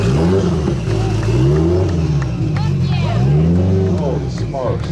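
Loud exhaust from a Subaru boxer-engine car at an exhaust competition during the BoxerFest car show, revving in repeated rising and falling blasts close by, with people talking over the engine.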